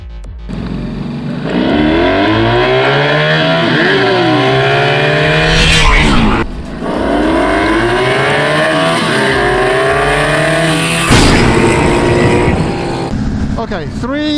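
A Honda V65 Magna and a Suzuki GV 1200 Madura motorcycle accelerate hard, engines rising in pitch through the gears with shift dips in between, loud and close throughout.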